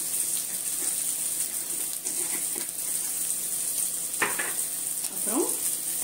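Tomatoes with turmeric powder sizzling in oil in a pan for a Tamil brinjal curry, a steady hiss with a few scraping stirs of a spoon, close and fairly quiet.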